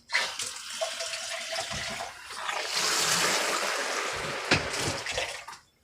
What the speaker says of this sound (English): But here is the shower. It's just like a regular shower turns on.